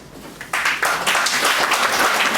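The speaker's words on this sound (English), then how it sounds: "can we have the NSS clap?" A college NSS orientation audience breaks into a dense burst of clapping, starting sparse and swelling into steady, loud applause that fills the hall.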